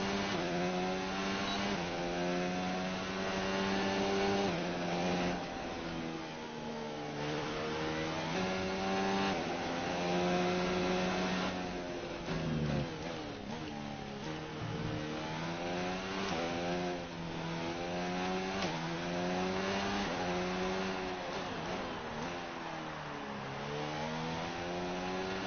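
F1 car engine from the video game F1 2019 revs steadily and continuously at high pitch, its tone rising and falling with gear changes throughout, loud and alone without any talk.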